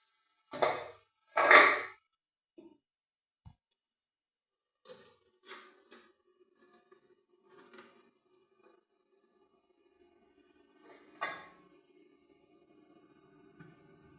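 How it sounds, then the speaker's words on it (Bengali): A metal pot lid clanks twice as it is lifted off a pot of boiling water, followed by several quieter scattered clinks and knocks with long near-silent gaps between them. "এরপর ঢাকনাটা আমি খুলে নিচ্ছি।"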